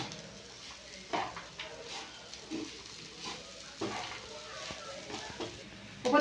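Semolina pulao stirred in a pan with ghee and fried nuts, giving soft scraping and light sizzle under repeated spoon knocks against the pan, fairly steady with a few sharper clinks.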